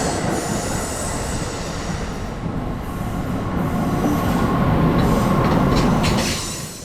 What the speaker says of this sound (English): Cutting through the darkness directly into the spotlights is Amtrak Regional Train 136, eastbound on Track 2